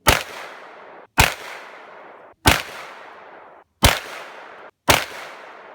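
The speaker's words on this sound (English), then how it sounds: "All right, now we got a 44 Magnum. I love this round. It's just a beautiful round to shoot." Five loud, sharp .44 Magnum shots from a Chiappa X Caliber barrel insert, each a close, booming crack with a brief ringing decay, spaced roughly a second apart with silence between.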